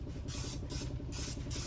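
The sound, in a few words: cooking spray sprayed onto glass dish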